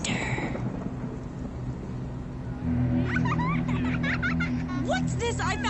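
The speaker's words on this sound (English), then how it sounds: "after you get struck by lightning, there's thunder" Thunder rumbles through a radio ad for the Maibatsu Thunder car in GTA Vice City, a steady roll with rain-like hiss, then a deeper swell joined by quick chattering, laugh-like sounds.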